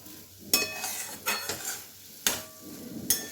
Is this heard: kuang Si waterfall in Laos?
no